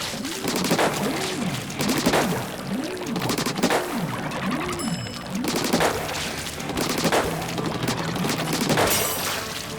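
Bombs go off in a spawn bomb rush in Splatoon 3: a rapid run of bursting splats and pops, repeated over and over and loud, with busy game music underneath.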